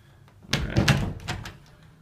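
A house door opens with a few close knocks and a rattling thunk, quiet overall, during an indoor home walkthrough.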